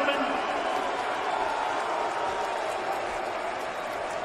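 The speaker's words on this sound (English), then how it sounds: "Well, crowd didn't like the scorecards." Arena crowd at a fight between Romero and Costa, a loud continuous roar of voices, booing and applause after the decision, steady and dense throughout.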